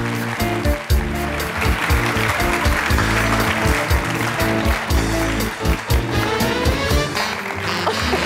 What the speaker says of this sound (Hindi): आपकी बहुत सारी तालियां हमारे मशहूर ज़माना शेफ़ फराज और शेफ़ मरियम के लिए